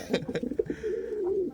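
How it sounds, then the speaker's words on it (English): A breeding pigeon in a backyard loft coos in a few short, soft throaty bursts, then gives one longer sustained low coo, close by and alone. "As the camera went on him, he started cooing."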